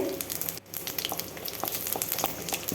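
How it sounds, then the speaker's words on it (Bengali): Dried red chillies, bay leaf and whole cumin hit hot oil left over from frying hilsa fish heads in a village kitchen, crackling in a steady close sizzle with a brief dip near the start and sharp pops throughout. "ওই তেলেই দিয়ে দিচ্ছি শুকনো লঙ্কা তেজপাতা গোটা জিরে"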